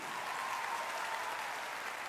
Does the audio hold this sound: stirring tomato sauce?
no